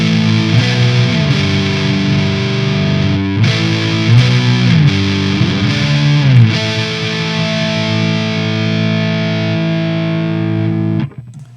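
Loud, distorted electric guitar playing sustained chords with a few bends, ringing out and cutting off abruptly at the end.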